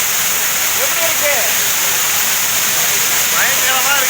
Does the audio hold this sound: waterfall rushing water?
yes